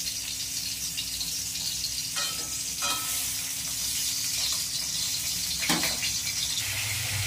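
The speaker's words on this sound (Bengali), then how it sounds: "খুব বেশি ভাজবো না, খুব ভাজলে পটলটা নরম হয়ে যাবে" Stuffed pointed gourds (potol) fry lightly in oil, with a steady close sizzle broken by a few scraping stirs and rattles from the pan. No voices are heard.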